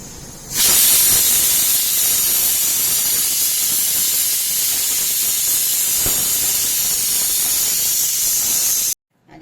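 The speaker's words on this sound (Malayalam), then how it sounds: "അപ്പുറത്തെ കുക്കറിൽ നിന്ന് വിസിൽ കേട്ടതാണ്." A loud, sustained hissing whistle of steam escaping from a pressure cooker cooking cowpeas starts abruptly, holds steadily for several seconds, then cuts off.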